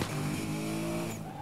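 Racing car in Need for Speed Most Wanted, a steady loud engine drone with rising pitch and a brief tire-scrape accent near the end, no talking over it.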